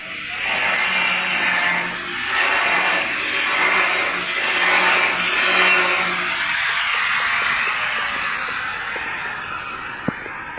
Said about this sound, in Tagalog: medyo maingay yung aking background kasi may nagtatrabaho sa dinaanan natin may bago kasing bahay na pinapatayo dyan